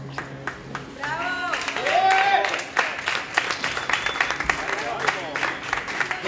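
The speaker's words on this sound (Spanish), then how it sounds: "¡Que fuerte el aplauso!" A crowd applauds at a paddle board race awards ceremony, with steady clapping swelling and fading over a few seconds while a voice calls out over it.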